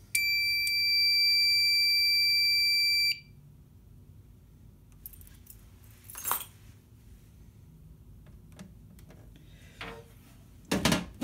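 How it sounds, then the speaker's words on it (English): A fire alarm system under test sounds a loud, steady tonal beeping horn for about three seconds, then stops, leaving quiet room noise with a few faint clicks and handling sounds. "we'll reset the alarm"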